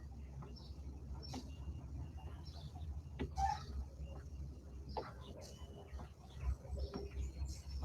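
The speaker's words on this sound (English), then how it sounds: "You hear the chickens?" Chickens and a cockerel cluck and call from a neighbour's yard, faint and distant, in short scattered bursts over a quiet low background, with a voice speaking softly nearby.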